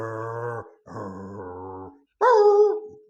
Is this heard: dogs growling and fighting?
yes